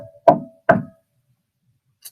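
Two sharp knocks on a door, evenly spaced and close, are followed by silence and a faint brief tap at the end.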